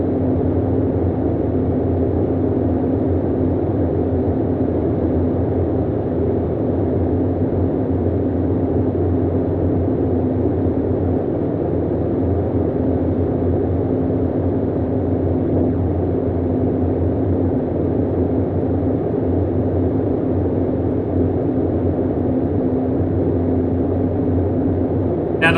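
A large aircraft in flight at about 3,000 feet and 150 knots, heard from inside as a steady, loud engine drone with broadband roar that holds unchanged throughout.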